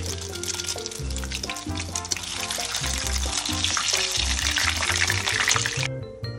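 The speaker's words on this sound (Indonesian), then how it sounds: "Celupkan bergedil kentang tadi dan kita gorengkan garing." Potato begedil coated in egg deep-fries in hot oil, giving a steady, dense sizzle and crackle that runs throughout under background music.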